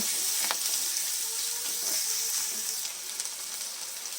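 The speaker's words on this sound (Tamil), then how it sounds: "நறுக்கி வச்சுருக்க பாதி பெரிய வெங்காயம் சேர்த்து நல்லா வதக்கிக்கோங்க" Steady sizzling of chopped onion sautéing in hot oil, with occasional scraping stirs and crackles, close and continuous.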